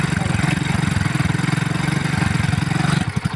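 A Yamaha motorcycle engine, with its rectifier and headlight wiring just rewired, runs loud and close and is revved with the throttle. The revving is steady and pulsing, then the engine note shifts near the end.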